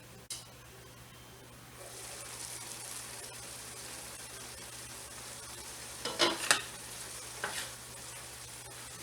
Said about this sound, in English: So we're cooking this now just until the noodles are tender.